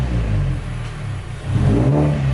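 A 2014 Mazda3 with its muffler deleted revs up, the raw exhaust rising in a loud, rough surge, easing, then climbing again into a sustained higher-pitched drone, close and unmuffled.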